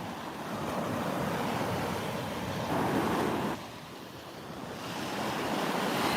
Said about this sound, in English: Sound of the waves, amazing today.